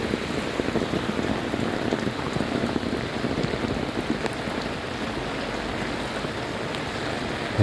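Heavy rain pours steadily onto a flooded area, a dense, continuous hiss and patter of drops on water and surfaces that holds at an even, fairly loud level throughout.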